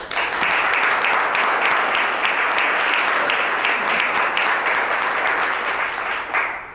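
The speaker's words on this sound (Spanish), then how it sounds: "hoy la recibimos con un fuerte aplauso." Loud, dense audience applause fills a book presentation hall, holding steady with no pauses and no talk before fading slightly near the end.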